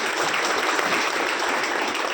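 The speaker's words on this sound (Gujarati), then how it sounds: "એમના માટે પણ જોરદાર તાળી દેજો." Audience applause at a stage event, dense continuous clapping from a crowd, loud and steady throughout with no gaps.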